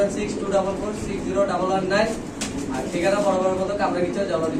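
Pigeons coo steadily in a loft where birds are sold with eggs and chicks, overlapping soft, continuous calls close by, with people talking over them throughout.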